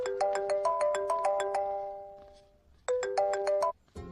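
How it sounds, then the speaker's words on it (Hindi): A phone ringtone plays for an incoming call, a bright repeating melodic pattern of chiming tones that runs for about two seconds, pauses briefly, then resumes before cutting off. "आपको किसी का फोन आ रहा है"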